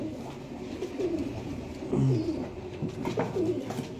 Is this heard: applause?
no